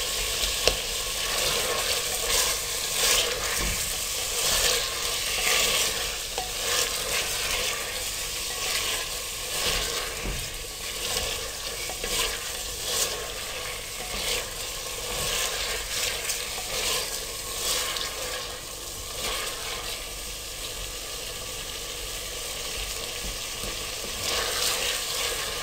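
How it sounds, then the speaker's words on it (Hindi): Mutton frying with garlic paste in a pot for a Peshawari namkeen handi gosht, a steady close sizzle with occasional stirring scrapes running throughout, no voices. "लहसुन पेस्ट के साथ इसको आपने 2 मिनट के लिए फ्राई करना है।"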